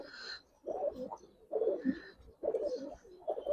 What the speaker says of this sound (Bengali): দেখেন নর মাদি উঠতি কবুতর ভাই